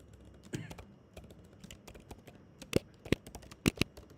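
Computer keyboard typing while filling in a form, scattered sharp clicks and a few louder key strikes, close, with faint background noise.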